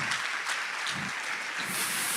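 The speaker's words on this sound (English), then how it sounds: "please, round of applause" Applause from a physics conference audience at an awards session, a steady broadband patter of many hands clapping throughout, alone without speech.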